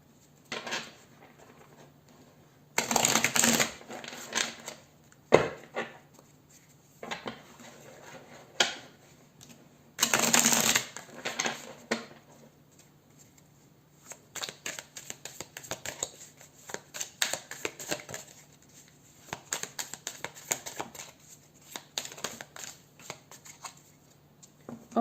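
Tarot cards are shuffled by hand in repeated riffling bursts and softer slides and taps, close and crisp, alone without speech.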